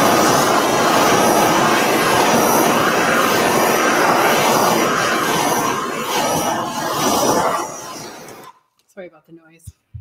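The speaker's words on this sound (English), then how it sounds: "Sorry about the noise. Oh, blowtorch is good." A blowtorch roars steadily and loudly for about eight seconds while heating encaustic wax paint in a studio, then cuts off abruptly, followed by brief speech.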